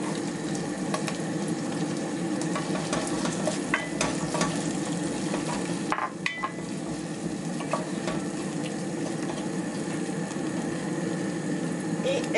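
Green bell pepper sizzles steadily in a hot pan for a Peruvian arroz a la jardinera, with scraping stirs and soft clinks running through a continuous close frying hiss.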